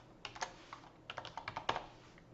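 Quick bursts of computer keyboard keystrokes come up close in two short runs, with a brief gap between them, as a PO number is entered.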